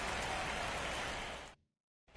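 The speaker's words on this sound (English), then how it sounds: "As expected, we're going into a rain delay" Rain falling on a ballpark in MLB The Show 24, a steady, dense hiss of rainfall that fades out abruptly after about a second and a half, leaving brief silence before it returns.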